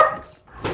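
A dog in the Fortnite video game lets out a single quick bark that trails into a short yelp, brief and fairly loud.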